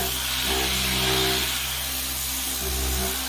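A Pioneer Works 6-inch random orbital sander running on its gentle setting gives a steady, close, low whirring hum with a broad hiss, holding fairly even throughout.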